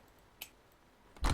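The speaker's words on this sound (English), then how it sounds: "Key goes in." Key inserted into a train control panel in Train Sim World 2: a faint click, then a louder metallic clunk at the end, close up with no voices.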